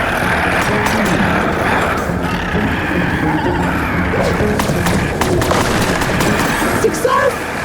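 Gunfire aimed at a butterfly creature in the video game Revenge of the Savage Planet, rapid shots and booms over a dense, loud game soundscape of music and effects, with a voice speaking.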